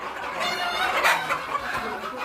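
Native hens around a discarded-tyre nest where they roost and lay eggs cluck in short, close bursts, with no voices present.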